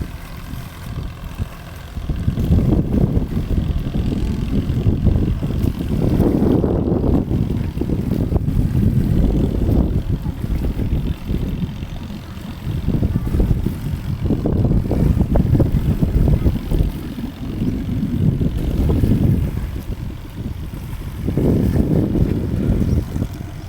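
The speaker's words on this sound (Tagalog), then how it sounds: "Napakalakas po ng hangin." Strong wind blows on a beach at Pola, Mindoro, buffeting the microphone in heavy rumbling gusts that swell and ease throughout.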